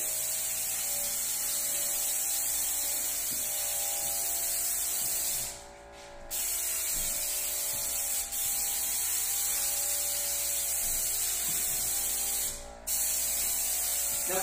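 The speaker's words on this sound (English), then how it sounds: "it fans the lacquer out really nice" A spray gun hisses continuously, laying lacquer onto new wood trim in a home, with a steady close airy spray and a couple of brief pauses.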